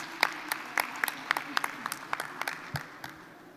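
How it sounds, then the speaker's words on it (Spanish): A small audience at a teacher training seminar claps in a brief, scattered round of applause, the individual claps sharp and fairly close before tapering off. "Pido un aplauso"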